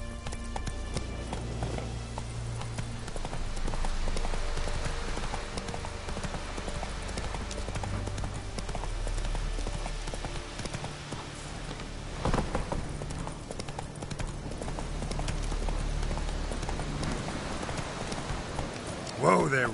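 Horse hooves galloping in The Witcher video game, a fast continuous clip-clop rhythm throughout, steady and fairly even with background game ambience.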